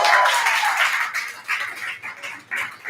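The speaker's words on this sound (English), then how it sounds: "please give a huge round of applause to Polly!" An audience at a live show claps and cheers for a performer, a steady wash of dense clapping with voices mixed in, fairly close and loud throughout.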